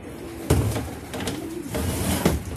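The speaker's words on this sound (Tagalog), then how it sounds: "Ayan, tambak na yung ibon natin." Racing pigeons return to their loft, giving soft cooing calls and a few sharp wing flaps or landing thuds, close by and without speech.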